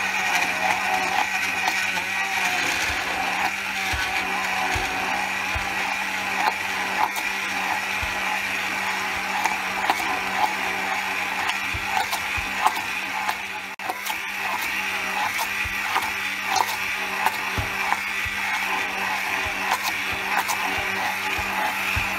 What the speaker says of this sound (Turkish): Şimdi ben bunu blenderdan geçireceğim.